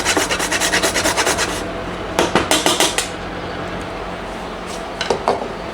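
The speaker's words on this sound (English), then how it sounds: "I'm just grating some nutmeg to the cheese sauce" Nutmeg rubbed against a hand grater for a cheese sauce, giving quick rhythmic rasping strokes close by, a steady run of scrapes, a pause, then a few more short bursts.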